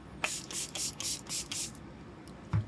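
Urban Decay setting spray misting onto a face in six quick pumps, each a short breathy hiss in an even rhythm, close and fairly quiet, followed by a soft thud; no talking.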